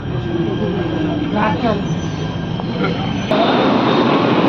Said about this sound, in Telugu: Right now you are in the Selampur metro station.